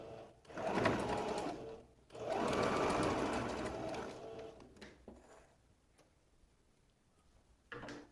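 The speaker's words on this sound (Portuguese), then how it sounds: "Vou fazer aqui na máquina rapidinho pra mostrar pra vocês." A sewing machine stitches a shirt facing in quick bursts, a fast even whirring rattle that runs for a few seconds, stops, and starts again, followed by quieter clicks and handling of the fabric.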